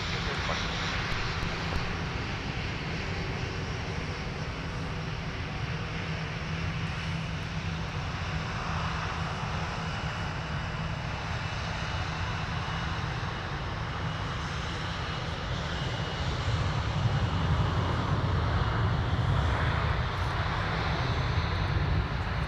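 Airplane engines at MSP airport in the Twin Cities, a continuous distant roar and rumble that swells slightly toward the end, with faint voices in the background.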